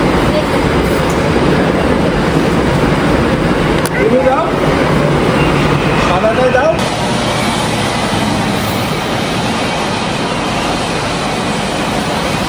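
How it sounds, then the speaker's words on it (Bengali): A metro train pulls into an airport metro station platform, a loud, steady rumbling roar of wheels and motors that fills the whole stretch, with a brief squeal partway through. "এই মেট্রো চলে এসছে"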